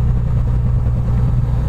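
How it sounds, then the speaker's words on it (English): An engine runs loud and close as its throttle lever is pushed up toward 2000 RPM, giving a steady, dense low hum with no clear rise in pitch. "We will move the throttle lever and take it to 2000 RPM."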